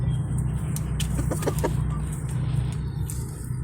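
A young white-eared cockerel crows briefly and clucks over a steady low background hum, at a moderate distance.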